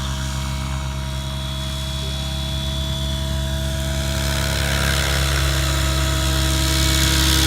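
A radio-controlled helicopter flies steadily nearby, practising inverted flight, with a constant high-pitched rotor and motor whine. It stays loud throughout and no one talks.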